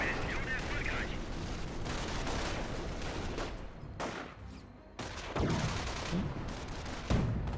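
Anti-tank gun shots in a Company of Heroes battle: repeated heavy cannon reports amid dense battlefield noise, with a few distinct thumps and sharp blasts standing out from the steady din.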